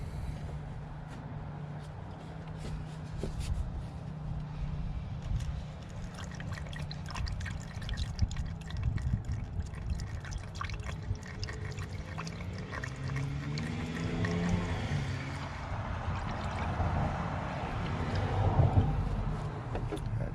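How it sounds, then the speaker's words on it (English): Coolant poured into the radiator of a 2006 Jeep Grand Cherokee, a faint steady trickle and gurgle of liquid running throughout with no talk over it. "What I'm gonna do now is add my coolant"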